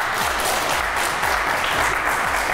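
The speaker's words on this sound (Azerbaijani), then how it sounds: "Sizcə yaxşıydısa alqışlayın." A theatre audience at a comedy sketch show in a youth centre in Agstafa breaks into dense, sustained clapping that stays loud and even throughout, with no voice above it.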